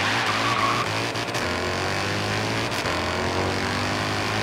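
A car engine in the Forza Horizon 3 racing game holds steady at half throttle, on a roughly 1,500-horsepower build with cam and exhaust upgrades, droning continuously and loudly with a slight rise and fall in pitch.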